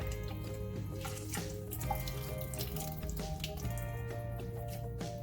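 Soaked cooked noodles for Korean japchae wrung out by hand over a sink, water running and dripping in a steady, continuous wash with background music.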